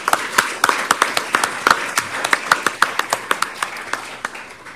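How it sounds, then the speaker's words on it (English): Audience clapping for two speakers at a talk on digital health care, a sparse, distinct run of individual claps with a fairly even rhythm, close and clear with no talking. "And applause for both Isabel and Rishi"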